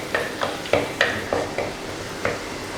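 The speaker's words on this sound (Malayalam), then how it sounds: "ഇഞ്ചി മൂത്ത് വരുന്ന വരെ നന്നായിട്ടൊന്ന് ഇളക്കി കൊടുക്കുക" Ginger and curry leaves frying in a pan are stirred, giving about seven evenly spaced scraping strokes over a faint sizzle, close and fairly quiet with no talking.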